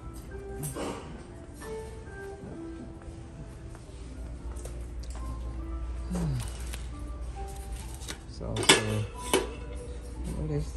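Glass plates and bowls clink sharply a few times in a store, scattered bright knocks over a steady low background hum, the loudest pair of clinks near the end.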